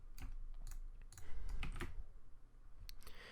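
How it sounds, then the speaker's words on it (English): Computer keyboard keys tapped repeatedly to undo actions while building a Unity survival game, a run of sharp, close clicks at an irregular pace with no talking. "I'm just clicking Control Z."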